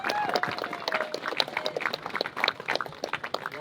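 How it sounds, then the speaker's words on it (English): An audience at a farmers' rally against digital ID and inheritance tax gives a round of applause, a brisk crackle of clapping mixed with scattered voices and cheers. "Please give me a round of applause."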